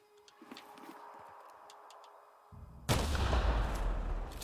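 A landmine blast in The Outer Worlds bursts in suddenly after a quiet stretch of faint game ambience and small clicks, a loud, broad roar that holds to the end.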